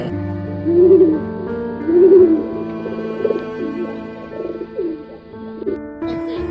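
Soft, low cooing of a pigeon repeats in two or three rounded phrases over a steady background, fairly close and moderately loud.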